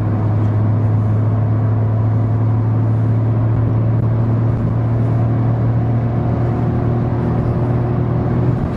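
Steady, loud low engine drone with road and tyre rumble from inside a 2023 Skoda Fabia 1.0 MPI 59 kW hatchback cruising at about 120 km/h in fifth gear on the A28 motorway, constant throughout with no talk.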